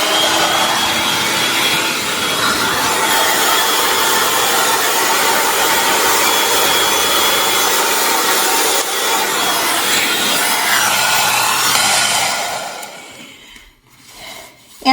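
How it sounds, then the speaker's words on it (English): A hair dryer set on hot blows loudly and steadily for several seconds, then cuts off, leaving brief rustling near the end. "then you turn on your blow dryer on hot"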